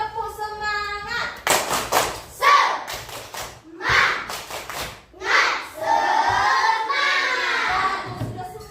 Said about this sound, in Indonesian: kita tes dulu tepuk semangatnya. Tepuk semangat.